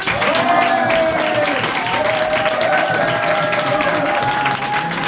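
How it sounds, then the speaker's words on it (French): An audience applauds after a magic act, with dense continuous clapping and crowd noise at close range, overlaid by tonal sounds that may be music, sustained evenly throughout. "Un applaudissement pour Julien, s'il vous plaît."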